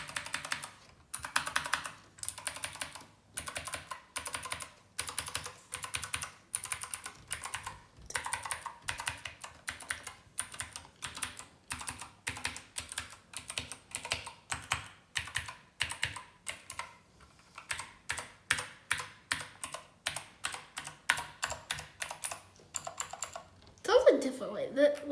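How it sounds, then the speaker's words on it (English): Gaming keyboard keys pressed one after another in a rapid, steady stream of close clacks that differ slightly in pitch, continuing for the whole stretch. "it makes a different sound each time you press it"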